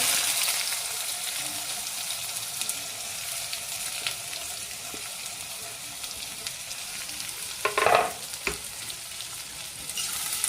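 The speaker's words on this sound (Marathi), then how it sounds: "चांगला परतून घेणार आहोत गोल्डन होईपर्यंत" Chopped onion, garlic cloves and curry leaves sauté in a pan with a steady close sizzle, broken by a few brief stirring scrapes near the eight-second mark.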